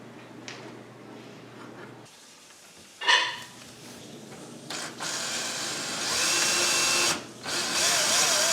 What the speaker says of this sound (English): it just went a little quicker using this drill here